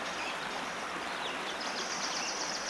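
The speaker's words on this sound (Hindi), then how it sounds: "पंछियों के उड़ने की और झरने से पानी बहने की" Water pours from a waterfall in a rushing, steady hiss that stays loud and unbroken, with faint bird chirps scattered over the flow and no talking.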